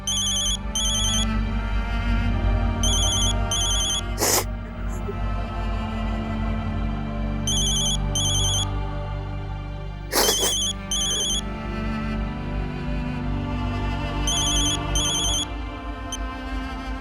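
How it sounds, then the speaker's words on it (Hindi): A phone ringtone plays in repeated bursts of high beeping tones over a steady musical bed, loud and close, with two sharp hits breaking in along the way. "Please pick up the phone."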